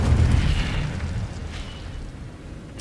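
Incendio fire spell cast in Hogwarts Legacy, a burst of whooshing magical flame with a booming low-end impact that trails off, heard alone without talk.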